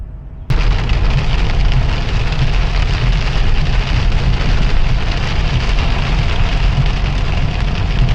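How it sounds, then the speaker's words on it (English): Heavy rain pours loudly and steadily after an abrupt start, a dense continuous roar with a low rumbling undertone like thunder. "the rain came down, and the lightning bolts lit up the sky"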